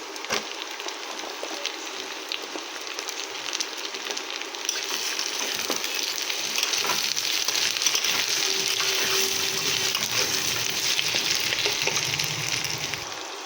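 Cut potatoes sizzle and fry steadily in hot oil in a pan, a dense hissing crackle that swells louder about halfway through and keeps going without pause, close to the mic and with no voices.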